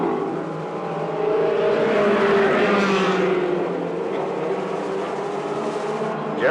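Race cars circle the track mid-race in a short-track event, their engines roaring steadily as a pack rises and swells past, loud and continuous with no clear gaps.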